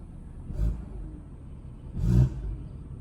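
A BMW B58 engine after a downpipe swap gives two brief, deep rumbling bursts a little over a second apart, moderately loud with a low idle hum between them.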